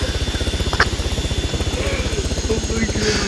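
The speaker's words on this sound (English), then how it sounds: "That was so close to the chopper." Helicopter engine and rotor in a skydiving video game thump in a steady, rapid rhythmic pulse close by and loud throughout, with a brief higher whoosh midway.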